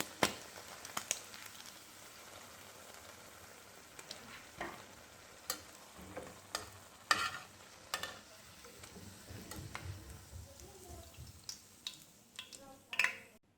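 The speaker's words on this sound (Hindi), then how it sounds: "कबाब हमारे बहुत अच्छी तरह हो चुके हैं फ्राई।" BBQ-flavoured shami kababs fry in a pan with a steady close sizzle, broken by scattered sharp clicks and scrapes as the kababs are turned and lifted out.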